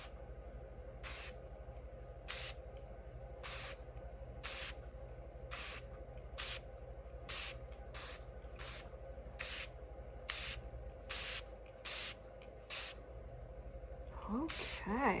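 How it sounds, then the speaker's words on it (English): A spray bottle misting a colourful paper butterfly craft, a long run of short sharp hissing bursts at a fairly regular pace, close and bright over a faint room hum. "now I'm going to spray it and we're going to see what happens."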